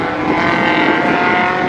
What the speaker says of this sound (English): as we can hear the F2 cars